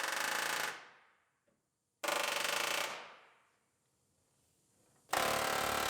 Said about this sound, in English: We're hammering on the stuff that we don't need around the parts that we're trying to save, just to break it all free